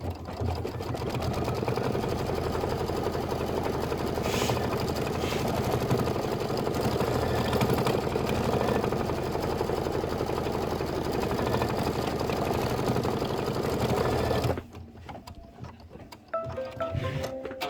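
An embroidery sewing machine stitches applique on a quilt block with a fast, continuous, close mechanical whir for about fifteen seconds, then stops, leaving faint handling clicks.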